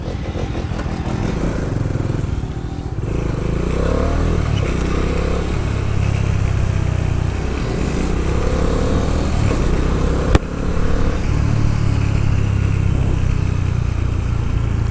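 A Bajaj Dominar motorcycle engine runs steadily and loudly close by, its low throbbing rumble holding throughout with slight rises in revs and a brief click midway.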